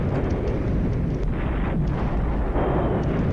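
Artillery shells from a salvo burst in a war video game, with heavy rumbling blasts that merge into a continuous roar and no clear gaps.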